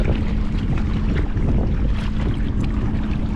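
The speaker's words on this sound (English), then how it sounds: "Ooh, the wind picked up." Strong wind gusting over open water while fishing for bluegill and crappie from a boat, a loud continuous rumble buffeting the microphone with no break.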